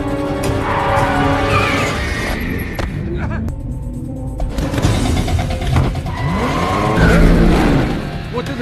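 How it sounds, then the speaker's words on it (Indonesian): A red car speeds away during an escape, its engine revving and surging amid a dense, busy mix of vehicle noise and other action sounds, with a rising roar near the end. "mereka berhasil selamat dengan menggunakan sebuah mobil merah yang keren"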